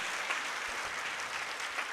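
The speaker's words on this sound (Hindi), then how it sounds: "जोरदार तालियां हमारी कलीसिया के लिए भी" Applause rises from a church congregation during a Christmas Eve Mass at St. Mary's Catholic Church, a steady, even spread of many hands clapping throughout, moderately distant.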